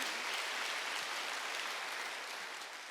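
A church congregation at a Wednesday worship service applauding together, a continuous broad wash of clapping that holds steady and slowly fades toward the end.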